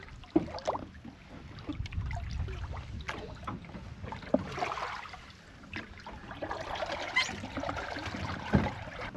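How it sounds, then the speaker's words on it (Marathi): A wooden shikara boat gliding on Dudhani lake, with continuous soft water swishing and paddle splashes, gentle trickling and light wind, and no voices. "दुधनीच्या या सुंदर तलावावर आज आम्ही निघालो आहोत शिकारा बोटिंग बोटिंगसाठी"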